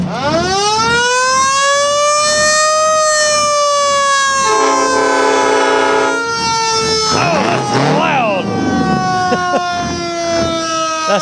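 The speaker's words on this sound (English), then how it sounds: "That's an old siren, yeah." A loud, close old mechanical siren mounted on a homemade car wails steadily with rising pitch, joined midway by a blaring horn-like tone and revving noise.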